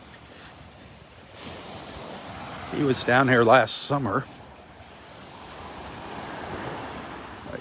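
Ocean waves washing onto a beach in North Naples, Florida, a continuous surf rush with wind noise on the microphone, and someone talking briefly over it in the middle.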